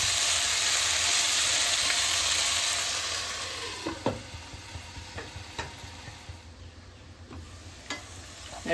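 Poha upma cooks in a pan, a loud frying sizzle at first that softens, then a spoon stirs and scrapes the mixture in separate strokes against the pan, close and alone.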